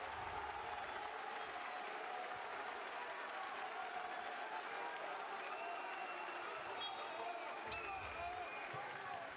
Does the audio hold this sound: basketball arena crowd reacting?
yes